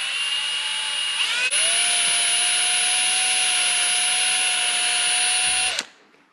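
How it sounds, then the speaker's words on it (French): Small drill bit boring into a steering wheel: a continuous high, whining power-drill tone, close and steady, briefly shifting in pitch early on, then stopping abruptly near the end. "Maintenant on va percer. Petit forêt"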